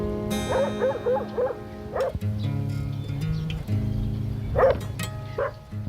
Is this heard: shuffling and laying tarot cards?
no